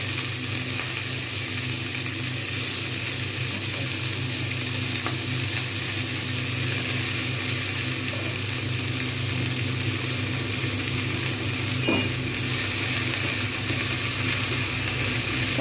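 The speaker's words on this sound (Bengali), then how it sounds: "এবার এর মধ্যে আমি দিয়ে দেবো সমস্ত মেথি শাকটা, একদম আঁচ কমিয়ে রেখে দেবো।" Fenugreek leaves hiss and sizzle loudly as they are stirred into potatoes frying in oil in a pan. The frying noise is steady and close throughout.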